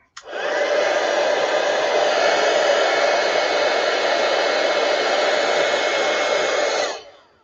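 Heat tool blowing steadily onto a stamped card, a loud continuous whooshing hiss that starts abruptly, holds evenly for about seven seconds, then cuts off.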